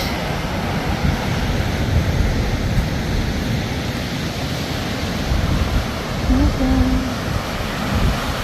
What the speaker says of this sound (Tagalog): Ang ganda, payapa ang dagat.